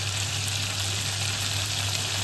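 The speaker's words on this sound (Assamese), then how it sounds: "মই এইখিনি ভাজি থাকোঁতে মই ইয়াত অকণমান হালধি এড কৰি দিছোঁ" Jackfruit pieces fry in a pan with turmeric added, a steady, even sizzle of oil heard up close and continuous, with no voices over it.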